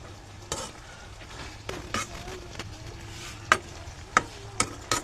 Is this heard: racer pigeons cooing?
no